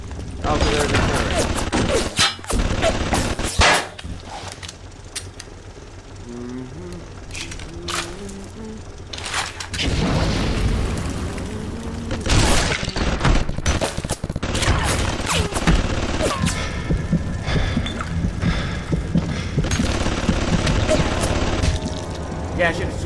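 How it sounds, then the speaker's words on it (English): Turret gunfire in BioShock comes in sharp bursts of rapid shots mixed with clattering impacts and game effects, loud and close, with someone talking at points between the volleys. "Also, there's a turret."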